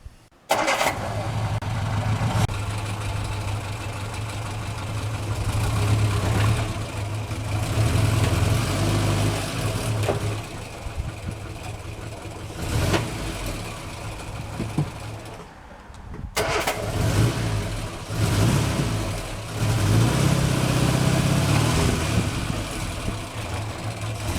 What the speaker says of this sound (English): It's time now to see if the car will actually move.